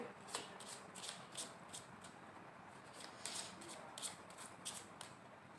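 Tarot cards being handled and shuffled to draw clarifier cards, a quiet series of soft papery riffs and flicks in an irregular rhythm, close by and faint with no talking.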